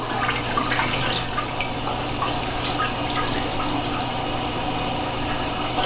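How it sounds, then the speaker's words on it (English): A running toilet that doesn't flush properly hisses and trickles steadily with water, a close, continuous flow with small splashes and drips, no talking. "We have a running toilet, and actually the toilet doesn't flush properly."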